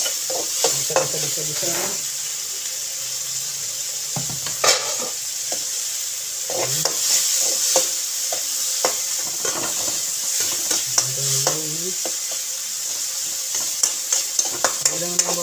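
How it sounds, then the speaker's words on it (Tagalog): Chopped tomatoes sautéing in a hot pan, a soft continuous sizzle broken by repeated scraping and clacking strokes of a utensil stirring, close up, with brief bits of talk in between. "Itaw natin yung kamatis hanggang sa malutot yung lapot-lapot."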